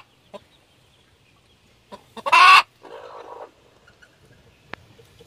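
A hen clucks and squawks loudly in a coop where eggs are hatching into chicks, with a short burst of agitated calls, a few softer clucks before and after, and a faint click near the end.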